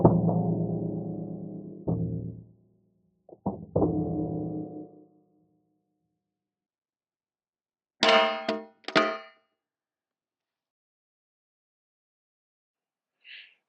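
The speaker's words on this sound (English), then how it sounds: "we're just going to drop it on shoulder height on some shootsteel.com steel" A pistol fitted with an enclosed red dot sight falls from shoulder height onto a steel target plate, two sharp metallic clangs ringing out close and loud, followed by a tiny faint chink at the end.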